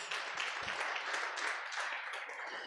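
A church congregation applauds, and dense, steady clapping fills the space evenly from start to end, with a couple of low thumps near the start.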